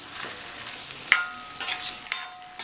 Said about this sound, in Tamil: 1 நிமிஷம் போல் வதக்கிக்கங்க.